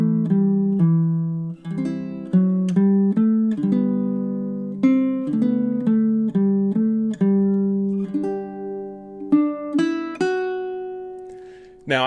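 A baritone ukulele plays a slow chord-melody arrangement of Danny Boy, plucked chords and single melody notes ringing one after another, close and clear with no voices over it.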